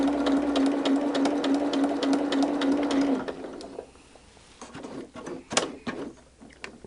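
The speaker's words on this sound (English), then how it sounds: "we're going to just carefully sew right along that line" A sewing machine runs a regular straight stitch along a seam line on a stained glass quilt top, a steady close whirring with rapid stitch pulses for about three seconds, then stops, leaving soft handling clicks and rustles.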